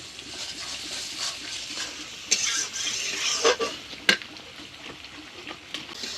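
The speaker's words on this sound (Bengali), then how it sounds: "এখন মশলাটা একটু কিছু সময় কষাবো।" Spice paste with salt frying in oil as it is stirred in a pan on a home stove, a soft steady sizzle with scraping spoon strokes and a few louder clinks against the pan.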